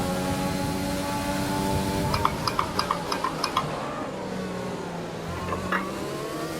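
Formula 1 race car engine in the F1 2020 video game, a steady high-pitched whine with climbing gear-change sweeps and a run of sharp clicks, unbroken and without talk.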